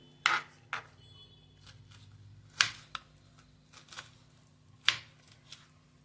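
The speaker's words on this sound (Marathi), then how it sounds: "तुकडे करून घेऊया, चिरून घेऊया।" Knife chopping pineapple into small pieces, a handful of sharp, separate cuts spaced out, close and fairly quiet with low hum between strikes.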